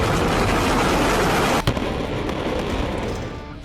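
A loud, sustained roar of a missile explosion in Saudi Arabia dominates, with a sharp crack midway before the rumble slowly fades.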